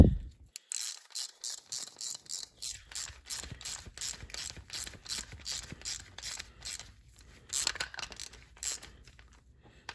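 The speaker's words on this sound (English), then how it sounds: "Now let's get the 17mm wrench and tighten her up." A ratchet wrench clicks steadily as it tightens the fork cap on a Honda CRF110 dirt bike during a spring and damping rod install, close up, with repeated rhythmic bursts of ratcheting and short pauses between strokes.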